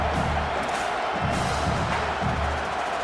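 A football stadium crowd at an SMU–Auburn game roars steadily as the field goal unit comes on, a dense, loud wash of cheering and whooping with no clear breaks.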